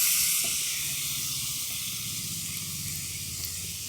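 Grated carrot goes into hot ghee in a pan for a semolina and carrot dish, setting off a broad, steady sizzle and hiss that stays loud and close throughout.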